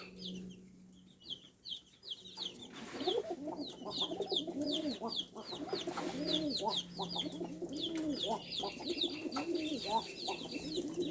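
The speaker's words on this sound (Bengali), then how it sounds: "এটা হচ্ছে একটি আনার চোখের কবুতর" Racing pigeons cooing in a loft, the bubbling coos building and overlapping into a steady close chorus with faint higher chirps, with no talk.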